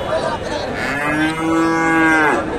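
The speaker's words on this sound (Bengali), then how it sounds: "ফ্রিজিয়ান বকনা, মোটামুটি হাই কোয়ালিটির বকনা ফ্রিজিয়ান" Close, loud single moo from a Friesian heifer at a cattle market, a long, steady bellow of over a second against general market noise.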